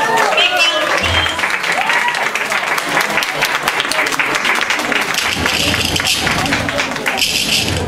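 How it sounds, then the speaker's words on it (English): Sustained loud crowd applause at an award announcement, dense clapping over eight seconds with a voice speaking over it and occasional thuds. "Big round of applause."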